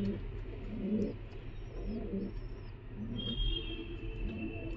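Giribaz pigeons kept for sale, cooing in low repeated rolling calls nearby, fairly faint, with a thin high whistling tone and a little distant traffic in the background.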